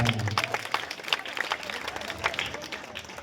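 Crowd applause for the organisers of a children's kho-kho competition, steady dense clapping from many hands filling the space, with a voice briefly heard at the start.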